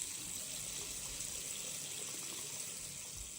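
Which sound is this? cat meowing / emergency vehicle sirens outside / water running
water running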